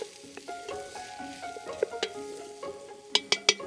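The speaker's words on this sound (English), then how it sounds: "we're gonna add in our onions and our carrots. And we're just gonna give it a nice stir." Onions and carrots in warm oil in a pan sizzle softly while a spoon stirs them, with scattered scraping clicks that build into a quick series of sharp knocks at the end.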